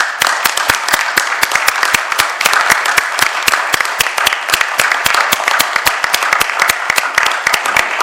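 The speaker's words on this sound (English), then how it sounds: "I think if we're going to have a round of applause for Simon, we should have one for Mick as well." A room of people gives a round of applause at a fire authority meeting. The clapping is loud, dense and continuous, with no one speaking over it.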